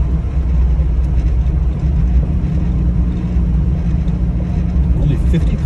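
A 1970 Lancia Fulvia 1.3S Sport Zagato engine drones loud and steady from inside the car as it drives, with a deep low-frequency rumble that holds constant throughout.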